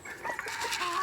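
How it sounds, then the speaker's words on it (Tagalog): Bantam chickens cluck close by in a farmyard, a steady run of short overlapping clucks with fowl calls filling the whole second, no voices. "Mga bantam ni siya guys."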